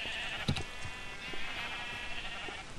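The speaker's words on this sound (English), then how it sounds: "I hear a ton of sheep." Sheep bleating in the Minecraft video game, a couple of short bleats standing out over a steady background hum, moderately close.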